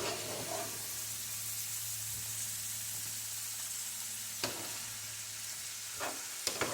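Food sizzles in a pan as it cooks down, giving a soft, even frying hiss with a low steady hum beneath and a few light clinks of utensils late on, no voices.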